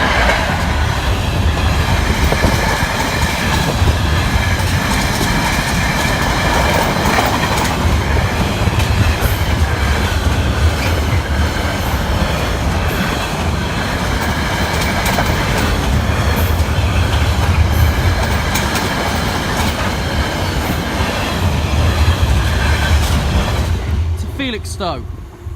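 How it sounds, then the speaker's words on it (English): A freight train on the Peterborough to Doncaster line rumbles through the Saxilby level crossing, loud and close, its wagons clattering steadily for about 24 seconds before the noise cuts off abruptly at the end. "Here's the freight train."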